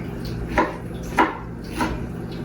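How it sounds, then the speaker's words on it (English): Three evenly spaced knife cuts through a ripe peach on a cutting board, each a short crisp knock against the wood over a steady low background hum, with no talking. "Just slice it up, slice it and dice it"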